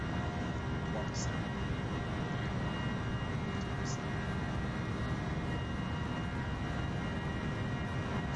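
Steady, loud drone of a small aircraft engine in a flight simulator game, a continuous broadband roar with no breaks across the whole stretch.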